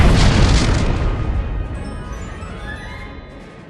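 Orbital bombardment in Star Wars: The Old Republic, a loud, deep explosion that hits at once and then rumbles and decays over several seconds, with no talk.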